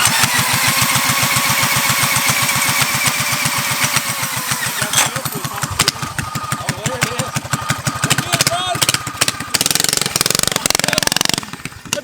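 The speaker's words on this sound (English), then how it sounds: "That thing sounds wicked straight pipe." Straight-piped G-body car engine cranking with rapid rhythmic turnover, then catching and revving roughly and loudly with uneven bursts, close by, with voices talking over it.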